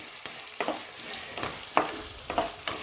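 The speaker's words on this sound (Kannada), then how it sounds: "ಈ ನಾವು ಹಾಕಿರುವಂತಹ ಹಸಿಮೆಣಸಿನಕಾಯಿ ಎಣ್ಣೆಯಲ್ಲಿ ಚೆನ್ನಾಗಿ ಫ್ರೈ ಆಗಬೇಕು" Green chillies frying in hot oil for avarekalu uppittu, a constant sizzle broken by about six sharp spatula scrapes and stirs against the pan, close and fairly loud.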